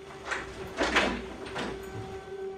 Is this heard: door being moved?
yes